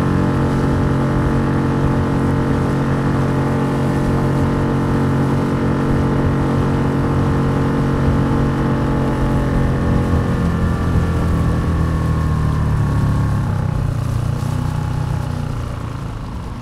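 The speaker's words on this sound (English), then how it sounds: "I think I see his boat over there." Motorboat engine droning steadily on open water near a spoil island campsite, loud and continuous with a rising, shifting pitch as it nears, then easing toward the end, with no talk.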